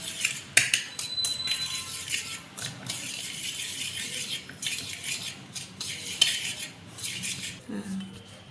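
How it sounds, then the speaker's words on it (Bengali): Ghee and sugar get mixed in a bowl for biscuits, a spoon scraping and clinking against the bowl in quick, uneven strokes, close and fairly quiet, with no talking. "চিনি আর ঘিটা ভালো করে মিশিয়ে নেব।"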